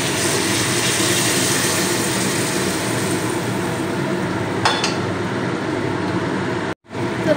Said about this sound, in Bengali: তো তরকারিটা জল দিয়েছি, ফুটছে।